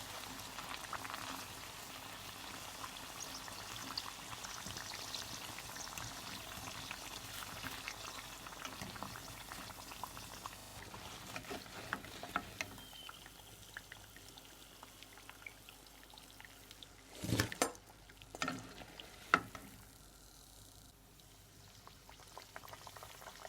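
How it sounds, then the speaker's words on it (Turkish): Pişi dough sizzles and bubbles steadily in hot oil, a constant crackling fry with a few louder spatters near the end. "Hamurlarımızı arka ve kızartalım."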